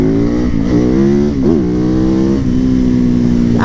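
A motorcycle engine revs loudly and close up on a test ride through an urban neighborhood, its pitch rising and falling through several throttle blips before settling into a steady drone.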